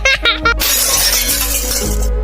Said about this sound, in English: Kitten's hand slipped, and the drink glass fell